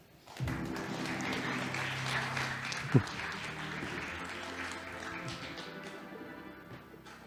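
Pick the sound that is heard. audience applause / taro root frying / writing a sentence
audience applause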